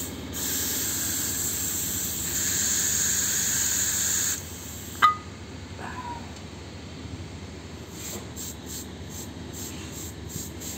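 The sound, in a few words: air hissing while pumping a bladder pressure tank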